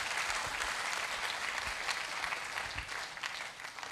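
An audience at an empowerment event claps loudly and continuously, dense overlapping applause with a few sharper individual claps standing out, with no speech.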